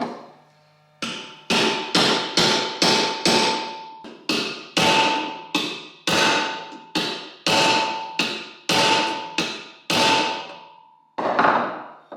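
A hammer drives a pinion bearing inner race onto a GM 12-bolt rear axle pinion gear, striking about fifteen loud, close, ringing metallic blows in an uneven rhythm until the metal seats.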